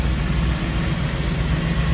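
A 1949 GMC 150 five-window step-side pickup engine idling, a steady low rumble that holds even and continuous throughout, close by.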